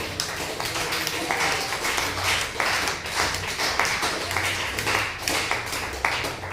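A church congregation claps loudly in praise of Jesus, a dense, continuous patter of many hands filling the room without pause.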